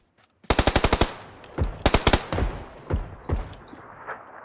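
Gunfire in PUBG Lite on the Miramar map, a rapid burst of about seven close shots followed by scattered single and paired shots fading off, with no talk over it.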